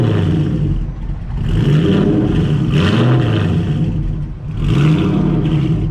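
A Fox Body notchback Mustang with a Terminator Cobra engine swap revs hard, its engine note rising and falling through several loud, close throttle swells over about six seconds.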